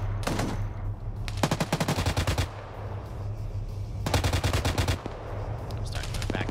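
Heavy DShK machine gun firing in a video game set on a Mexican cartel training op, two long rapid bursts of loud, rhythmic shots separated by a pause, with a brief third burst and steady engine-like hum underneath.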